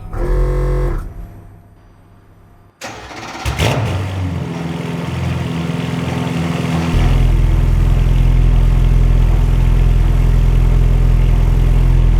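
A Mercedes-AMG GT2 race car engine starts after a quiet pause with a sharp crank and catch, then settles into a loud, steady idle that deepens and grows heavier over the last several seconds.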